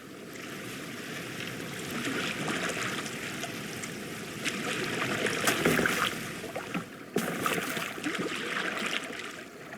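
A boat moves over water in Assassin's Creed Valhalla, a steady wash of splashing and rushing water with swelling surges, loud and continuous with no voices.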